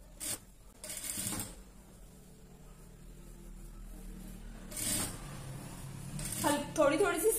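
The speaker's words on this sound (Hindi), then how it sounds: "तो हम इस साइड भी सिलाई चला लेंगे।" A sewing machine stitches a net sleeve seam in short, intermittent runs, each burst of mechanical whirring stopping and restarting while a person talks nearby.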